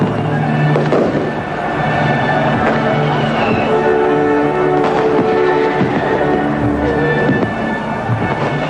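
Fireworks over Berlin at the 1990 German reunification celebration crackle and pop continuously, with repeated sharp bangs and a dense crowd din beneath, loud and sustained throughout.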